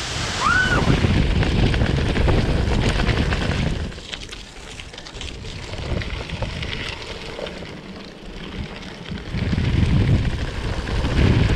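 A waterfall pours beside a river crossed by a bridge near Curtiduría. A steady, loud roar of rushing water fills the whole stretch, with wind buffeting the microphone and a brief lull in the middle.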